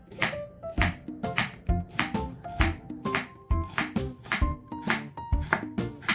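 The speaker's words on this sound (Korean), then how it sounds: "무를 적당한 크기로 썰고" A knife chops radish on a cutting board in brisk, even strokes, about four per second, each a close, crisp thunk against the wood with no voices.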